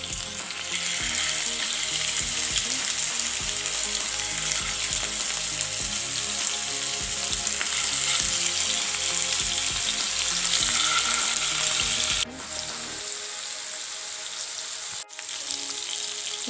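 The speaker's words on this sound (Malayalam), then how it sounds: "ബീഫ് ഒന്ന് ഫ്രൈ ചെയ്തെടുക്കാൻ വേണ്ടിയിട്ടാണ്. അപ്പോൾ ഓയിൽ ചൂടായിട്ടുണ്ട്" Beef pieces frying in hot oil in a pan for beef cutlets, a steady dense sizzle that runs loud and unbroken before dropping away sharply near the end, with no talking.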